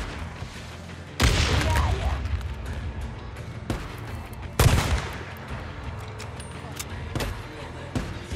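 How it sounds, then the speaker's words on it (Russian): Grenade blast and gunfire in the video game Days Gone: two loud, sharp bursts about three seconds apart, with smaller scattered shots and steady combat noise between them. "Граната!"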